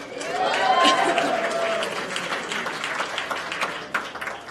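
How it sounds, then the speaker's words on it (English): Applause from the crowd at an Atlanta Startup Village startup meetup, broad clapping swelling early and carrying steadily for several seconds with cheering and voices mixed in beneath. "So please, everybody, give him a big round of applause."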